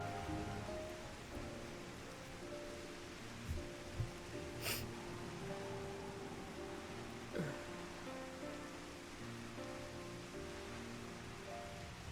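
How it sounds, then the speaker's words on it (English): Rain falling in the Ruby Sea area of the video game Final Fantasy XIV, a soft, steady hiss of rainfall at low level, with a few faint taps and brief incidental game sounds over it. "We're just sitting out in the rain."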